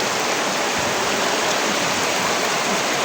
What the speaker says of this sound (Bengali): এই বছরের ভিতরে এরকম বৃষ্টি হয় না